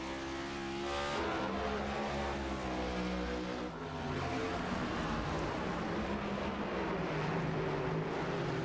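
Race car engines roar steadily in a sim racing game, several cars climbing a hill with rising and falling revs, loud and continuous, no talk.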